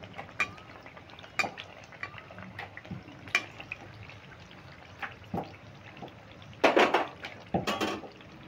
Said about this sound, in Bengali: আর এই কচুরি কিন্তু হাই ফ্লেমে ভাজতে হবে।